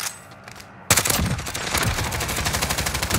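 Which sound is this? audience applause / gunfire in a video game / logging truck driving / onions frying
gunfire in a video game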